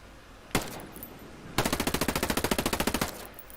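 An MPX submachine gun in Ghost Recon Breakpoint fires a single sharp shot, then after a short pause a rapid, even burst of about twenty rounds lasting roughly a second and a half, loud and close.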